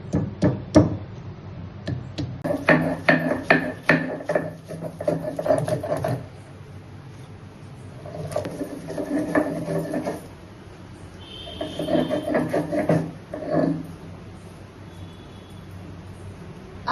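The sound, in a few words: grinding ginger and garlic on a grinding stone (shil)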